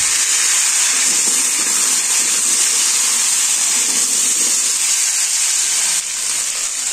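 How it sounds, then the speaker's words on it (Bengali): Potatoes frying in oil in a pan during village-style home cooking: a loud, continuous sizzle and hiss that stays steady throughout and eases only slightly near the end. "এবারে আলু দিয়ে ভালো করে ভেজে নেব"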